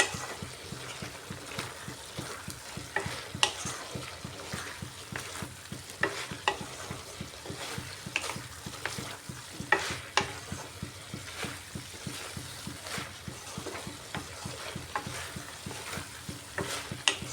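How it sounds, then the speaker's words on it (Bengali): Squash curry with ginger and chili powder sautés in a pan, with a steady sizzle and frequent spatula scrapes and stirring clatters at an uneven rhythm throughout. "ঢাকাটা সরিয়ে এবার ভালো করে কষিয়ে নেব"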